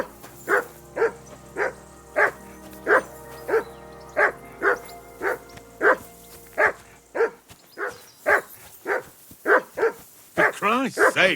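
Hound barking in Kingdom Come Deliverance 2, a steady run of loud, regular barks about every half second, growing quicker and more overlapping toward the end, over a low game background hum.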